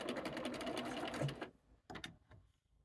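A sewing machine stitches fabric for half-square triangle quilt pieces, a quiet rapid whirring run lasting about a second and a half, then stopping, followed by a few faint clicks and handling sounds.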